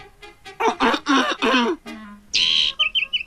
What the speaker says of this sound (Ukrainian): Знов ця пташка.